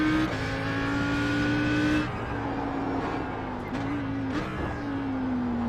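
An Audi R8 GT3 race car laps Bathurst in a racing video game, its engine droning steadily at close range with brief dips and shifts as the pitch changes through gears, tires faintly scrubbing underneath.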